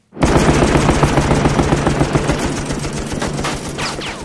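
A fighter aircraft's guns fire in one loud, rapid sustained burst lasting about four seconds, with dense crackling reports that begin abruptly and trail off slightly at the end.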